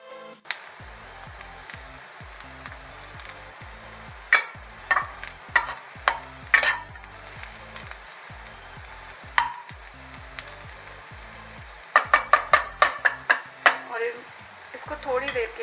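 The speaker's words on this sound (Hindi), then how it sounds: "अब इनको अच्छे तरीके से मिक्स कर लेंगे।" Bitter gourd tossed with amchur powder in a pan, a soft scraping stir under quiet sizzling, with sharp clinks of a spoon against the pan in scattered clusters and a voice talking over it.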